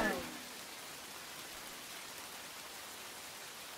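Steady rain from the video game Risk of Rain 2 fills the scene as a constant, even hiss of falling drops, loud and close after a brief burst of another sound at the start.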